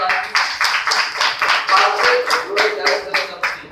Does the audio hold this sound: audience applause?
yes